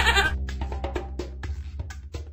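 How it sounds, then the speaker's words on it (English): Bleating farm animal, a goat in a children's farm cartoon, heard as a loud, wavering series of pulsed cries, alone with no talk. "That's right! It's a goat!"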